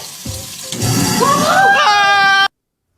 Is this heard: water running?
yes